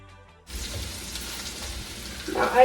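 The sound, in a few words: red chilies and garlic frying in ghee and oil tempering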